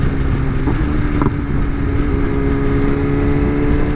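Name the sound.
BMW M 1000 XR motorcycle riding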